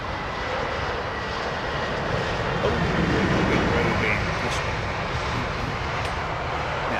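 An airliner at Heathrow Airport being pushed back from a remote stand, a loud steady engine roar and rumble holding throughout, with someone talking over it.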